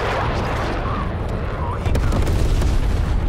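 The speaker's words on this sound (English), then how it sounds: "Someone's about to get napalm." Napalm strike in the video game Call of Duty Black Ops Cold War: dense, continuous rumbling blasts and crackling fire roar loudly, with a heavier burst partway through.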